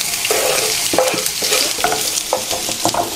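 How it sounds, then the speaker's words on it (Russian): Onions fry in a pan with buckwheat-mushroom patty ingredients nearby, a steady bright sizzle broken by repeated scraping stirs of a spatula, close and alone. "И лука пока обжариваем"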